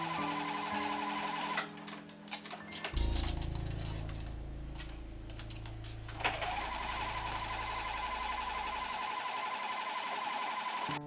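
A sewing machine runs in bursts stitching the shoulder seam of a beach cover-up, with a steady mechanical whir at close range and a brief low rumble partway through.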